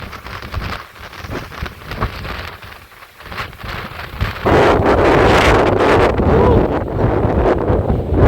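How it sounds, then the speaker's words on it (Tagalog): Strong wind roars and buffets the microphone in Apayao, Philippines, growing louder and more constant partway through, with brief talk underneath early on. "Lakas ng hangin."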